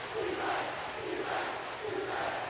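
A large high school boys basketball crowd cheers in a gym, a sustained, rhythmic roar of voices that swells and chants in waves throughout.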